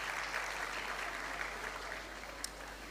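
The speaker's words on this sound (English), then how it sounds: "Please give the children of Pauline Veronica Williams a round of applause." A school valedictory service audience claps in a steady, even wash of applause that is faint and somewhat distant, with no talk over it.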